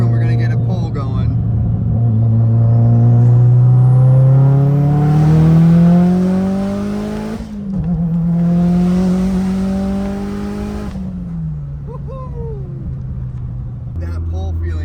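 A Mitsubishi Lancer Evolution accelerates hard through two long pulls, its rowdy exhaust and engine note climbing loudly and close up, with brief talk at the start and end.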